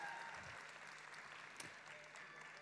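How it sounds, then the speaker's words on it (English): Pageant audience applause for finalists at Miss & Mister Supranational Namibia, a dense, steady wash of clapping heard from a distance and fairly faint, continuing throughout. "please put your hands together for our most stunning finalists from this year's pageant"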